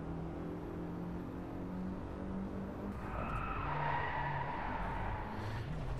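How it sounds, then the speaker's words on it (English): In the racing video game Driveclub, a car's engine drones faintly while the e-brake throws it into a skid, a hissing tire scrub that rises midway and then fades, with no voices. "Is that not the e-brake? That's the e-brake."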